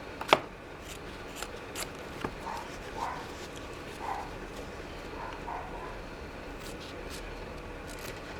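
Scissors cut fabric for covering a hardback book, a sharp snip at the start followed by softer, scattered snips and handling rustles, close and fairly quiet.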